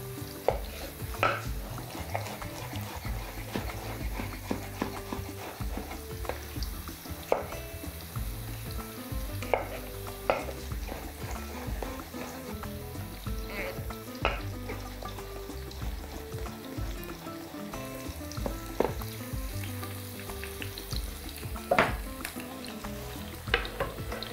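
Onions sizzling steadily in a hot pan, with occasional stirring scrapes and light knocks of a utensil against the pan, under soft background music.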